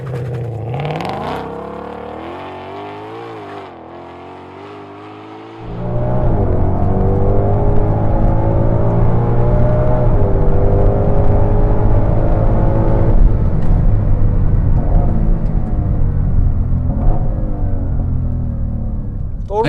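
A Ford Mustang Shelby GT500 idles, then its engine roars loudly as the car launches from 0 to 100, holding a strong, steady rising drone for many seconds.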